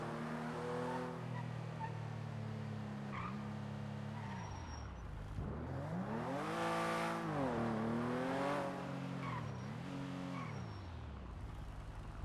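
Engine of a small rental car driven in GTA V on the NoPixel roleplay server, a steady drone that climbs and falls in pitch as the car accelerates and shifts, loud and close with no talk over it.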